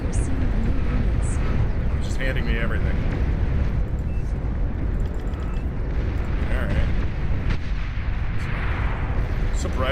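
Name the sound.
bombing explosions in the video game Beyond All Reason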